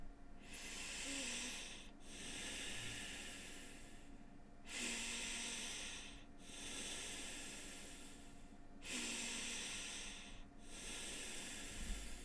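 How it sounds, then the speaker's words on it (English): Slow nasal breathing in and out through the nose, breathy hissing strokes roughly every two to three seconds, close and quiet with short pauses between breaths. "breathing in and out through the nose"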